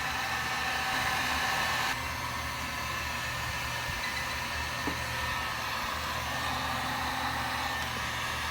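A heat gun warming a nitro RC engine on a LOSI 8IGHT, a steady close whooshing blower hiss that holds level throughout, with no talking.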